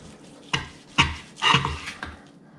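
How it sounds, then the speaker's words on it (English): A knife slicing through a smoked brisket flat cooked on a Weber Smokey Mountain, a few close, distinct cutting strokes about half a second apart, with no talking. "I'm gonna Start cutting a couple slices."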